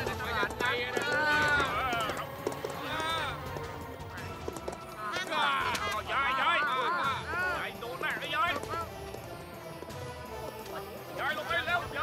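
Hooves pound as a horse gallops in a dubbed martial arts TV drama, a steady rhythmic clatter running throughout while people talk and shout over it.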